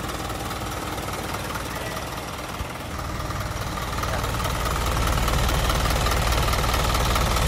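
Isuzu NPR 14-foot wing van truck with a 4XL1 Turbo Max diesel engine idling close by, a steady rumbling clatter that grows a little louder partway through, with no talk.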